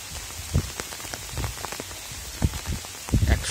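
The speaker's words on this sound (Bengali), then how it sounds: "বৃষ্টির এই শব্দ," Rain falling on surfaces in a village, a steady soft patter with scattered louder drips and drops landing close by.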